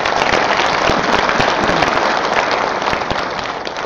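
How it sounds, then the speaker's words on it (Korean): An audience at the opening ceremony of an international academic conference on Buddhism and the Fourth Industrial Revolution claps in loud, dense, continuous applause, close and crackling, with no voices over it. "다시 한번 박수 부탁드립니다."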